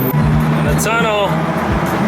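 A Dodge Viper ACR's 8.4-liter V10 drones loudly and steadily in a tunnel, a deep rumble under an excited voice that rises in a brief whooping shout.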